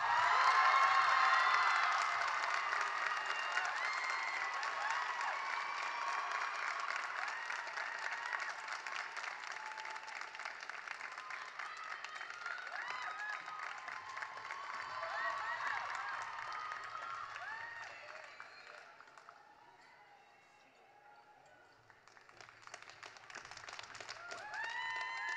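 Audience at a Songfest ceremony applauding an inductee, sustained clapping with some cheers and whoops that holds steady, dips briefly near the end, then swells again.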